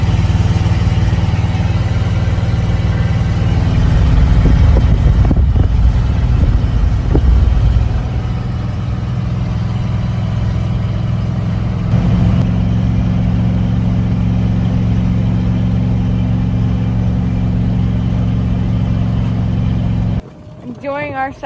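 A vehicle engine drones steadily while being driven down a road, a loud, continuous rumble with constant road and wind noise that holds for most of the stretch, then drops off sharply near the end.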